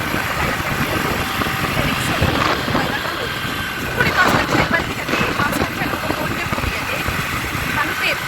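A motor vehicle engine drones steadily during a ride on a road trip, a loud continuous rumble with wind noise, and people talk over it at times.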